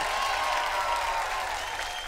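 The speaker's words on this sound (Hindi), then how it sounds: "जोरदार तालियां कुणाल के लिए" Studio audience applause at a Hindi comedy stage show, steady dense clapping for the full stretch, loud and close with no talk over it.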